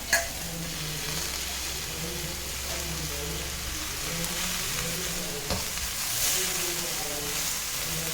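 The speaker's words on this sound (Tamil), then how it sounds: "இந்த கொத்தமல்லி தழையையும் அதில் சேர்த்து வதக்கி விட்டுக்கலாம்" Coriander leaves sauté in crab masala in a pan, a continuous close sizzle with soft stirring scrapes and occasional clicks, while a voice talks faintly underneath.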